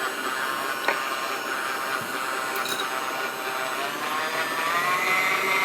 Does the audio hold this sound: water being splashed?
no